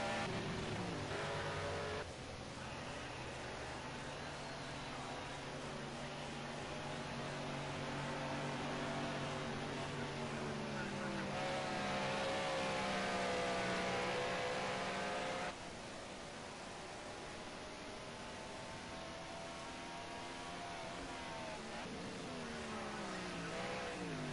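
Group A touring race cars, including an Audi, lapping at Hockenheim, engines droning and revving through gear changes as they pass, a sustained loud buzzing roar that rises and falls over the whole stretch.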